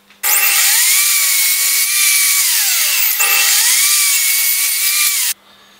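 A power saw cuts through wood clamped in a lever clamp for angled joints, a loud continuous whine of about five seconds with a short dip midway, starting and stopping abruptly.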